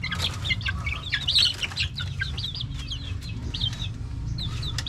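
Clucking and chirping from a coop of chickens, hens among young month-old chicks, with repeated bright calls over a steady low hum, close and moderately loud, no talking.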